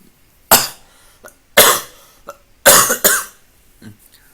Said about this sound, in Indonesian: Maaf ya, batuk-batuk sedikit ya.